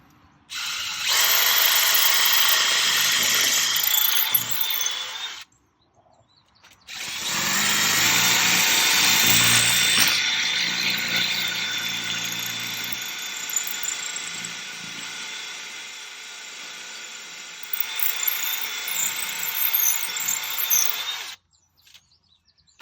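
A power drill drives a bit into the ground to mount a pool cover reel, with two long loud bursts of whirring and grinding separated by a brief pause, then a shorter final run before stopping.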